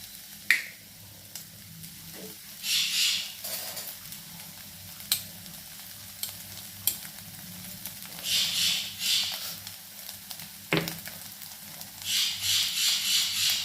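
Egg and vegetables for mushroom fried rice are stirred in a pan, giving a soft sizzle with intermittent scraping strokes and sharp clicks of the utensil against the pan, close and fairly quiet.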